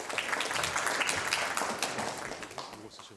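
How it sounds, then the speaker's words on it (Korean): An audience at a Korean research seminar on clearing space debris from low Earth orbit gives a presenter a welcoming round of applause, a dense, even clapping that fades slightly toward the end. "큰 박수로 맞이주시기 바랍니다"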